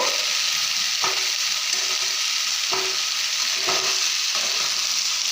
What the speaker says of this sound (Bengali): একটু ভাজা ভাজা করে এখানে আমি আড়াই কাপ চাল নিয়েছি